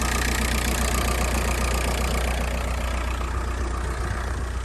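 Car engine turning over and running steadily on an auxiliary battery hooked up after an alternator failure, a continuous loud close mechanical drone holding through the whole stretch with no voices.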